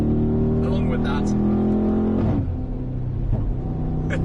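Mercedes-AMG G63 with an 850 hp engine accelerating on twisty roads: a loud, close engine roar climbs steadily in pitch, breaks off around two seconds, then settles into a lower rumbling drone.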